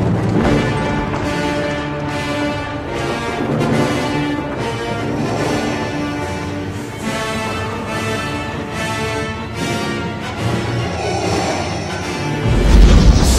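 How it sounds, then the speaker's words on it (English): A full orchestra plays the Imperial March from The Empire Strikes Back, a steady, heavy march with brass and strings, loud and continuous throughout. "This film introduced the Imperial March theme."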